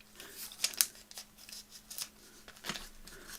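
Scissors snip through paper while assembling a junk journal, a few quick crisp cuts close by, fairly quiet and spaced irregularly over a soft background hum.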